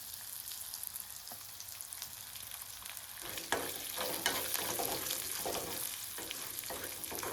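Curry leaves sizzle and crackle in hot oil while seasoning churumuri, a steady frying hiss that jumps louder around the midpoint as the leaves hit the pan, with scattered pops and stirring.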